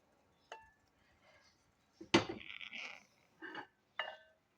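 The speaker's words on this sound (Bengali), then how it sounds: "এই যে ঢাকনা দিয়ে ঢেকে দিলাম আমি এখন ঢাকনাটা এই যে তুলে নিলাম" A metal lid set down and lifted off a cooking pot in a kitchen while preparing milk pakan pitha, giving a few sharp clinks and a ringing clatter, close and alone.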